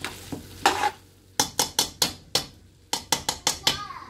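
Minced meat with bitter gourd, coriander and green chilli stirred in a pan, a close series of sharp, rhythmic scraping strokes in two bursts over a soft sizzle, with no one speaking.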